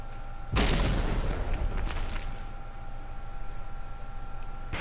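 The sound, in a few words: long-range torpedoes striking ships in From The Depths video game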